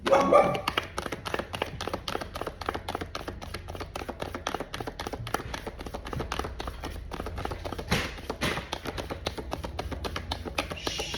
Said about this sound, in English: Sorry if my dogs hear something, they just start popping off.